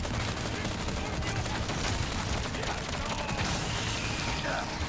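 Turret machine gun fire in the Resident Evil 4 Remake: a sustained, rapid stream of gunfire with dense crackling bursts, loud and close throughout, no talk.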